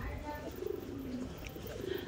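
A young kalshira pigeon coos on a rooftop, a few soft low murmuring coos close by, with other noise and possible voices in the background.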